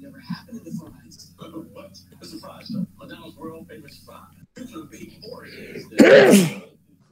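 A single sharp sneeze bursts out near the end, loud and close, following a stretch of quiet conversation between several people.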